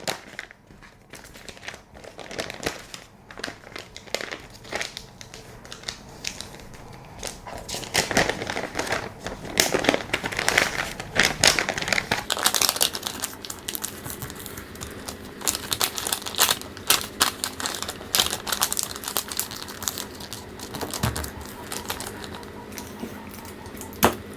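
Sheets of paper pattern being folded and creased into pleats for a draped shawl collar jacket, giving a run of close crinkling and rustling handling noises, uneven and fairly loud, with no talk.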